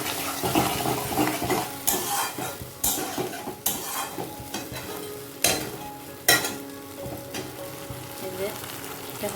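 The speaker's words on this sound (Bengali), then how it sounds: "মশলাটা এরকম করে নিয়ে কিছুক্ষণ নেড়ে নিয়ে তারপরে আমি পেস্টটা দিচ্ছি।" A spice paste of cashews, green chillies and peanuts sizzles in a pan while a utensil stirs and scrapes it, with repeated sharp clatters over a continuous frying hiss.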